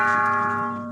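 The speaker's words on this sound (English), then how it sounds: "Someone is making some gong out of that." A metal disc plough hub rings like a struck gong, a steady sustained metallic tone with stacked harmonics that slowly fades over about a second, heard alone and close.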